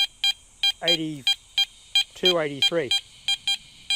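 A Garrett Apex metal detector gives a string of short, evenly repeated high beeps, clear and close, while someone briefly speaks numbers between them.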